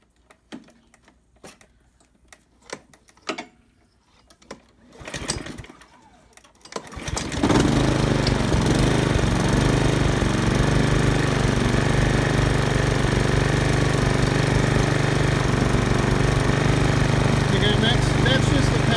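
A Honda GCV200 lawn mower engine, recently freed from seizing, sputters through a few pulls and catches, then roars into a loud, steady running drone that holds without a break.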